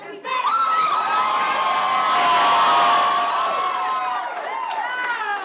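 Jubilant crowd at an election night event cheering and shouting loudly and continuously, with high whoops and excited voices rising over a dense, sustained roar.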